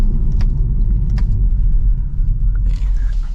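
2025 BMW M440i coupe under way, its engine and road noise forming a loud, steady low rumble from inside the cabin, with faint higher ticks and hiss above the drone.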